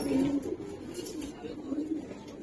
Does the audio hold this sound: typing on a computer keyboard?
no